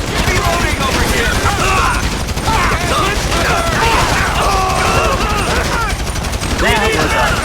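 Gunfire in the video game GTA 5 during a police shootout, dense rapid crackling shots and mechanical clatter running steadily and loudly, with voices shouting among the shots.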